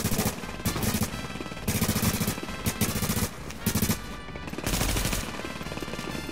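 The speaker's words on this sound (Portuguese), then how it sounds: "Eu tô levando tiro." Automatic gunfire in The Division's Dark Zone comes in loud, rapid bursts that repeat several times with short pauses between them, and dense background game noise sits underneath.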